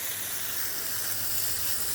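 A high-pressure garden hose sprays algae out of a pond filter, giving a steady, broad hissing rush of water that stays even and close throughout, with no talk.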